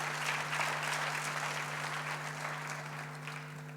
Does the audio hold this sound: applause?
yes